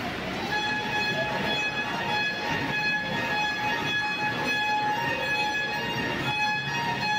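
A train stands at platform 4 of a busy Indian railway station before a Madurai to Kollam sleeper journey, a steady rumbling hum with sustained whistle-like tones layered over crowd noise, continuous and fairly loud.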